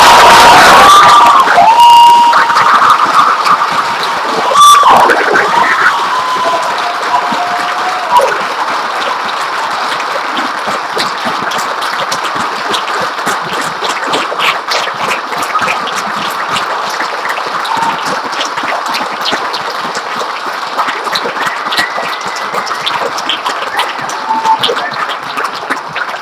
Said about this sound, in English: Can we all give them all a round of applause?